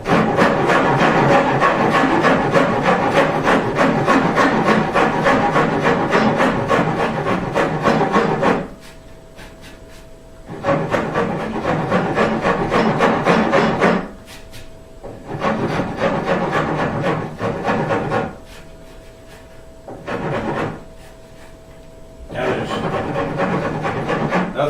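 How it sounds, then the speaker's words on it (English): Hand file rasping across the wooden body of a custom electric guitar, loud rhythmic back-and-forth strokes in several long bursts separated by short quiet pauses. "Nothing to keep me from just filing all of that the same way, though."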